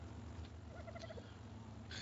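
Dodo birds in a video game give a short gobbling, warbling call of a few rapid notes, heard over a steady background hum.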